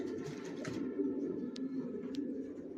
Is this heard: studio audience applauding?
no